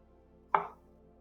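A single crisp knife chop through garlic cloves on a cutting board in a home kitchen, sharp and close, then quickly fading to quiet.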